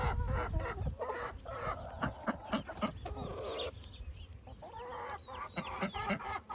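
A Welsummer hen, one of the first chicken batch of the year, clucks in a steady run of short calls at close range, with other farmyard fowl around and constant low background rumble.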